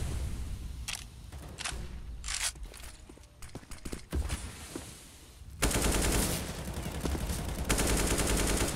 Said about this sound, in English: Tetsky firing through